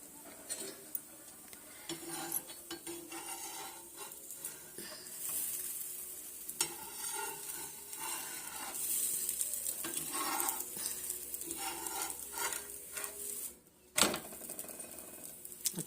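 Two sabudana parathas roast on a pan, giving a steady soft sizzle with occasional scraping and tapping sounds, close and fairly quiet, with one sharp knock near the end and no voices.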